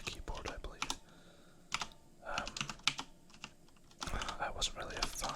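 Keys clatter on a Corsair K95 keyboard with Cherry MX Speed switches in quick, irregular bursts of close crisp clicks, with soft whispering in between.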